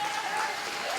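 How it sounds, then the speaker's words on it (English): At a government swearing-in ceremony, a crowd breaks into a brief, dense burst of steady clapping. "Give him a round of applause."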